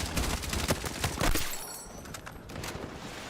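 Rapid bursts of DMR rifle fire in Battlefield 6, dense cracking shots packed together in the first second and a half, then thinning into scattered distant pops over a busy battlefield background.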